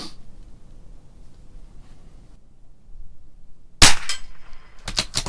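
A CZ 457 LRP .22 rifle firing Norma Tac-22 at 50 yards gives one sharp, loud crack after several seconds of quiet, followed by a few brief, sharp clicks.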